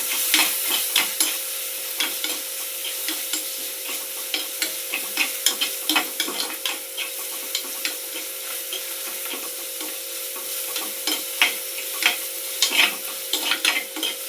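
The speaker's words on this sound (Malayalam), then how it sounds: "ഇനി നമ്മൾ ചെയ്യേണ്ടതാണ് ഒരു തക്കാളി നല്ലവണ്ണം ഇറക്കി കൊടുക്കാം." Tomato sautéing in a pan, a continuous sizzle with repeated scraping and knocking as a spoon stirs the mixture, close and fairly loud with no talking.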